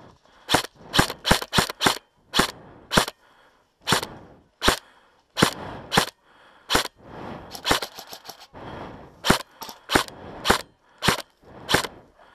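Airsoft guns fire during a city-defence gameplay match, sharp snapping shots in quick bursts and single pops, close and loud against a quiet background, with brief pauses between volleys.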